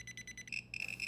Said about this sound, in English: This detector detects this thorium lens just fine, just like the other thorium lens, and eventually goes into alarm, which unfortunately is the only sound it makes.